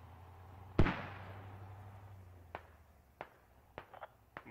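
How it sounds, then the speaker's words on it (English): A single loud mortar launch in the military shooter game Squad thumps close by and rumbles away, followed by several faint, distant pops. "Mortar's going out"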